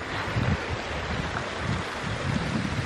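Running water on church grounds gives a steady, fairly loud wash with low rumbling gusts, close by and with no talking.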